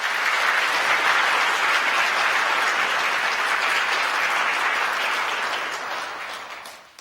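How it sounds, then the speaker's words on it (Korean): Warm applause from a church congregation welcoming a new part-time minister during a Sunday service, steady dense clapping that fills the room and fades out over the last second. "여러분들 인사드릴 때 환영의 박수 부탁드리겠습니다"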